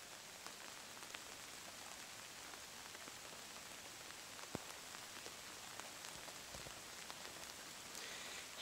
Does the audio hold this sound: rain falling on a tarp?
yes